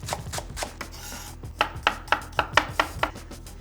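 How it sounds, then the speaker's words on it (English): A knife slicing spring onions and garlic on a board, with a quick run of sharp, evenly spaced chops close by, a brief pause, then another steady burst of cuts. "I'm just gonna slice up some spring onions and garlic."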